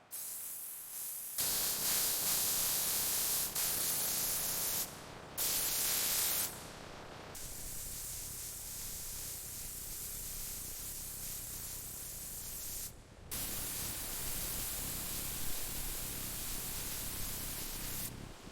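Bursts of loud, steady hissing spray from a spray gun painting a restored bulldozer's edges and corners, several long passes separated by brief pauses, close up with no voices.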